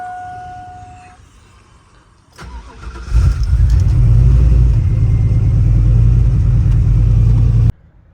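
Chevrolet Silverado truck engine cranking and firing up after a quiet pause, then settling into a loud, steady warm-up rumble nearby before cutting off abruptly near the end.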